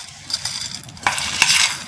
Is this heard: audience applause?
no